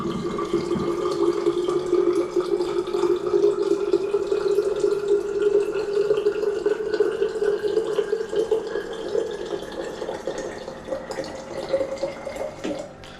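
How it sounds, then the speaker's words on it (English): A smart water purifier dispenses water into a bottle, a steady close stream splashing and rising in pitch as the bottle fills, tapering slightly toward the end. "Okay, now water will drop."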